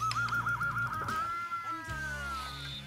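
An electric guitar with a sustainer pickup on the neck feeds back through an amplifier, producing a loud, sustained singing tone that wavers with vibrato, then slides and settles into lower held notes, with no talking.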